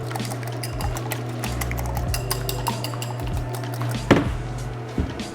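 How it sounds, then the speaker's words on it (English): A whisk stirs briskly in a bowl in a home kitchen, with steady scraping and quick metallic clinks against the sides, one sharper knock near the end. "I have a whisk."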